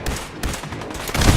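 A player's gun fires in a video game in a few quick, loud, rough bursts that come close together and run almost continuously.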